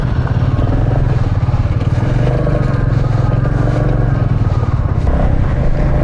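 Royal Enfield Classic 350 single-cylinder motorcycle riding along busy city roads, its steady engine drone and road rumble continuous and close throughout, with faint clatter underneath.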